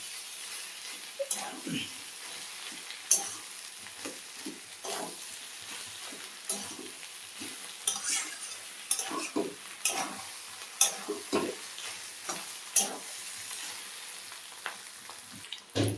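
A pan of catla fish roe curry with potatoes, thinned with a little hot water, is stirred in soft bursts of scraping and clatter over a quiet simmer, fairly faint and close.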